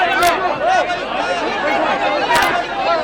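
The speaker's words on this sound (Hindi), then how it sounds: "भीड़ बहुत ज्यादा है" A large crowd gathered to welcome someone home in Rajasthan fills the air with dense, close babble of many overlapping voices, steady and loud, with occasional sharp clicks.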